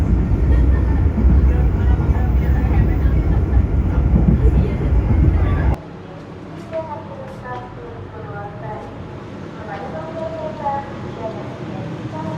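The Jaka Tingkir economy passenger train on the Jakarta–Yogyakarta line gives a loud, steady rumble on the rails that drops abruptly to a quieter ride, with faint squeals and clatter continuing.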